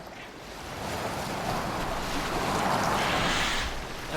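A longship on open water in Assassin's Creed Valhalla, with a continuous rush of waves and wind that swells gradually and holds steady, no voices over it.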